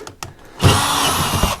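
A power drill fitted with an auger bit bores through wood to run wiring for a hot tub. After a few short taps it settles into a loud, steady grinding whine that runs for about a second, close to the mic, with no talking.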